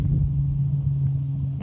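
Steady low outdoor traffic rumble, likely a passing car or distant aircraft, holding a constant hum at moderate loudness throughout with no voices.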